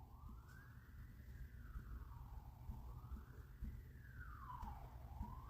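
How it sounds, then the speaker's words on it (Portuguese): An ambulance siren wails through a city street, its rising and falling tone sweeping steadily and loudly over a constant low rumble of traffic, with no voices. "passa uma ambulância, cara, e não tem como separar o negócio"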